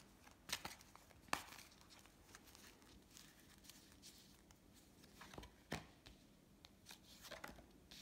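Tarot cards shuffled for a reading, heard as a few sharp riffling bursts spaced apart over a quiet background, soft and close with no talking.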